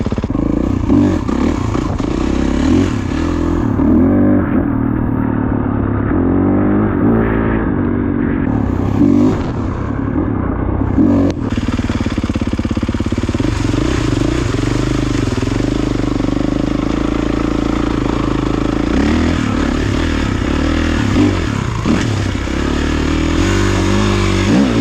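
A Kawasaki KX450 dirt bike ridden in the rain drones loudly and continuously close by, its engine revving up and down through gear changes, with wind noise and rattling over the top.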